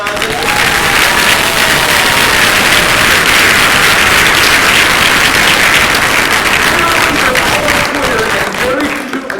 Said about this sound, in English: Please applaud my guests.